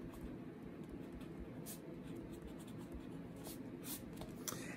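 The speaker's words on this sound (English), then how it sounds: "So I'm just going to write step two." Marker or chalk writing on a board in a classroom tutorial, with scratchy strokes and a few sharper squeaks over a steady low room hum, fairly quiet and close, no talking.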